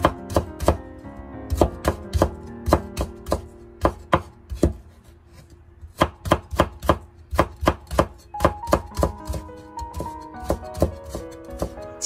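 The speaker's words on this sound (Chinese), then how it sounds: "黄瓜，切片之后，然后改刀切成细丝，切得越细越好" A knife slicing cucumber into thin strips on a cutting board, fast rhythmic chopping taps in bursts with brief pauses, close and crisp, no talk.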